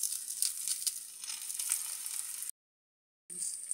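Aloo paratha, a Punjabi potato-stuffed flatbread, sizzles steadily on a hot pan, a bright continuous frying hiss that cuts out briefly and then resumes, with no talking.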